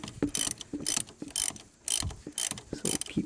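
A ratchet clicks in quick bursts while tightening the belt tensioner bolt on a 1999 Honda Civic EX, close and crisp, with short pauses between strokes.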